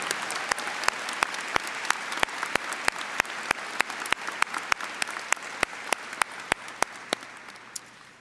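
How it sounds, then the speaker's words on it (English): Commencement audience applauding honorees at a spring college of education and health professions ceremony, a dense steady wash of clapping with sharp individual claps standing out near, sustained throughout and tapering slightly at the end. "Please, a round of applause for all of these incredible individuals."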